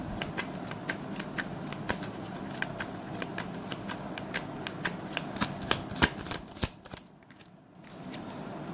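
Tarot cards being shuffled by hand, a rapid run of crisp riffling flicks and taps that grows denser and louder before stopping abruptly, with no talking.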